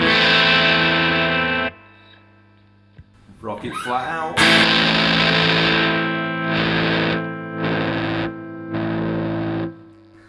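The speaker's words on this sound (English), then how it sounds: "you've got that classic germanium fuzz effect there" A Strat through a germanium fuzz pedal rings out in thick, sustained distorted chords, cut by a silent gap and a flurry of picked notes, then several chopped bursts, with a brief spoken phrase.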